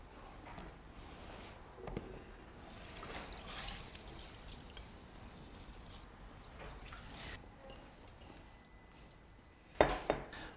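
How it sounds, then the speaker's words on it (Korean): Rinse water is tipped out of a bowl of washed rice, a quiet trickle with faint clinks of the bowl, ending in a short, louder knock of dishware; no one speaks. "자, 이제 물을 버려줄게요."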